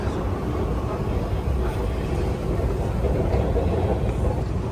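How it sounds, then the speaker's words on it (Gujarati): A continuous low rumble of a train rolling into Wembley Park station in London, steady and loud throughout, with no clear voices. "સો ટ્રેન આવી ગઈ છે,"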